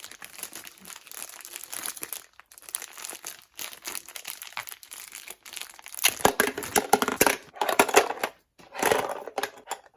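Plastic wrapping bags crinkling and rustling up close during a toy kitchen market set unboxing, with irregular bursts of crackling that grow busier and louder in the second half.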